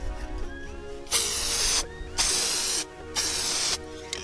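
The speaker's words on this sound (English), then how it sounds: "I'm gonna spray your activator spray." A spray can of activator spray is fired in three close, loud bursts of hiss, each lasting under a second with short pauses between them.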